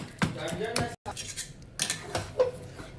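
A spoon stirs batter for Junnar-style maaswadi in a metal pot and beats lumps out of it. Short scraping clinks and taps sound close and come in an irregular sequence, with a brief silent gap partway through.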